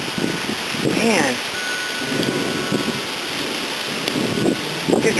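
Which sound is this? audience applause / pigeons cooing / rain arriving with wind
rain arriving with wind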